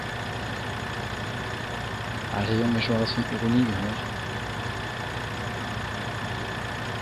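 A tractor engine idles in the Landwirtschafts-Simulator 2013 farming game, a low steady drone running throughout while voices talk over it.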